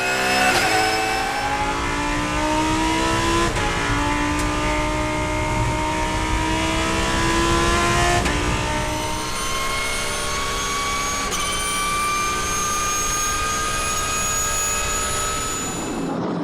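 GT race cars at racing pace on a circuit, among them a BMW M6 GT3 and a Lamborghini. Loud engines rise and fall through gear changes, several cars passing close in a continuous roar.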